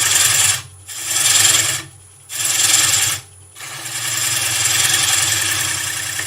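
Woodturning gouge cutting a spalted beech bowl on a lathe, three loud raspy cutting passes split by short pauses while the lathe hums underneath, then one longer steady cut.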